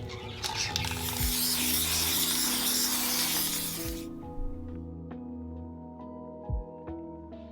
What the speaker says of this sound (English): Afterwards, I spray painted them.